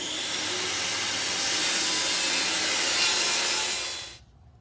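A circular saw clamped to a Kreg Rip-Cut guide rips through wood on a countertop. The loud, continuous whine of the blade stays close and steady, then cuts off sharply near the end.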